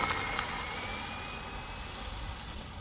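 Drag-built motorcycle on a run, the engine roaring loudly with a rising whine as it accelerates away, the sound steady then slowly fading with distance.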